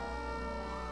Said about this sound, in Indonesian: Ini kan bunyi sirine loh.